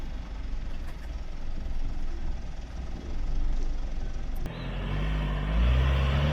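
A 4x4 car climbs uphill with traction control engaged, its engine a steady low drone that grows heavier and louder partway through, with no one speaking over it.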